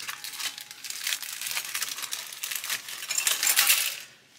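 Plastic bags of parts from a USS Enterprise CV-6 aircraft carrier model kit crinkle and rustle as they are handled close up. The crisp, continuous crackling swells and fades for about four seconds with no talk.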